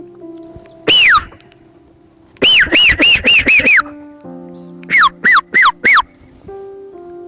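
Someone mimics a parrot with shrill whistled squawks: a single call, a rapid burst of five, then four more in quick succession.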